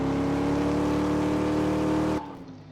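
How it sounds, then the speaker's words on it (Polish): A small Polish Fiat 126p (maluch) car's exhaust roars loudly while accelerating, a steady rising engine drone that cuts off abruptly near the end, leaving a quieter idle. "Posłuchajcie wydechu."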